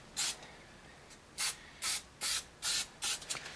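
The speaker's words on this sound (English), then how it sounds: "I'm going to apply a thin layer of spray adhesive" Spray adhesive hissing from an aerosol can, being applied to insulation during a fan coil cleaning: six short, even bursts with brief pauses between them, close and fairly quiet.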